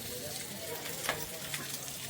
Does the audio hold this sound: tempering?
yes